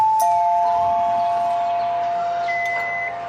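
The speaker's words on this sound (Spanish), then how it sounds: "La familia Otero estaba en la cocina cuando sonó el timbre de la casa." A house doorbell rings loud and close with sustained electronic tones, then a second higher tone, all over a faint background hum.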